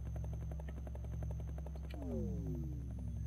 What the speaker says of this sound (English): I still don't understand why a helicopter touching me kills me.